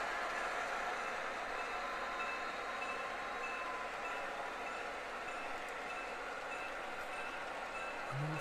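An HO scale model GP9 locomotive runs along a siding on a model railroad, giving a steady, quiet mechanical rumble and whir throughout, with no voices.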